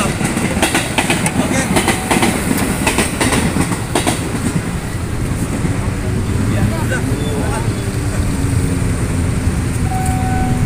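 A train rumbles past close by with a steady rolling roar and rhythmic clatter of wheels over rail joints, people talking faintly underneath.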